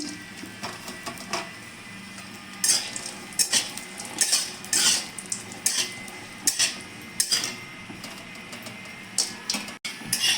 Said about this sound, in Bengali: এবার আমি কাজু কিশমিশটা ভেজে নিচ্ছি